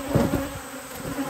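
Honey bees buzz at a beehive during a Varroa mite check, a close continuous hum with a few louder passes in the first half.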